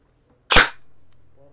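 A single sharp, close shot cracks from a G&G MXC9 airsoft rifle firing through a chronograph, followed by a brief fading tail and then near silence.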